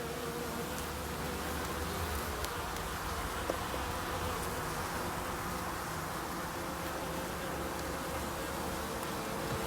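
Honey bees buzz steadily and densely around an opened beehive during an inspection in a forest apiary, a continuous close hum filling the whole stretch with no speech.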